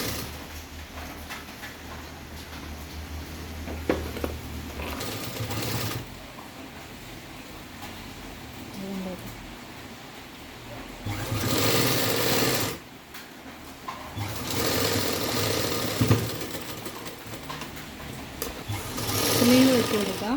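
Sewing machine stitching along the side of a frock-style nighty in bursts, a rapid mechanical chatter that starts and stops, with someone talking over and between the runs.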